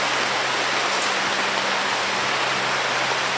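Steady rain falls throughout, a dense, even hiss at constant loudness with a faint low hum underneath and no voices.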